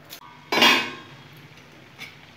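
A metal lid clanks down onto a cooking pot of mixed quashed stems and jackfruit seeds, one sharp close clatter with a brief ring, framed by softer small knocks before and after.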